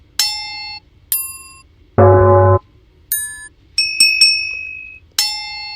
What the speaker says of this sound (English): for the post notification, it's a bell.